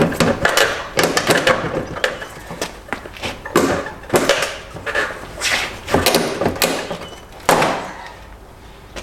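A Nissan Y62 NISMO tail light held by two pins is pried and popped out of the body. Loud close thunks and plastic knocks come in uneven bursts, with creaks and rattles in between. No one speaks.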